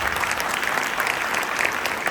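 Audience applause for a helper after a Marathi play, with dense, steady clapping from a crowd filling the room throughout, loud and continuous with no talking.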